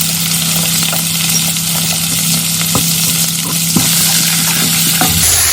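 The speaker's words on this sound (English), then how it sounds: "So it's time to add it to my onion and stir fry." Onions and locust beans stir-frying in a pan for a vegetable stew, giving a loud, steady sizzle with a low hum underneath and a few scraping stir clicks.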